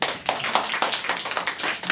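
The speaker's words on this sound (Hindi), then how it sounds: "ताली बजाएंगे इस बात।" A church congregation claps hands together in a steady rhythmic burst, many hands at once, moderately loud and continuous with no speech over it.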